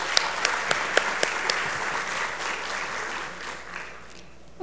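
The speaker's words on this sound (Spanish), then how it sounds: "Con un fuerte aplauso la recibimos" An audience at the opening session of a meeting applauds to welcome a speaker, opening with a few sharp distinct claps before settling into sustained clapping that slowly fades.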